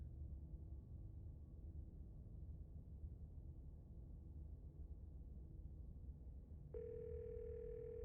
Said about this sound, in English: and then a dial tone.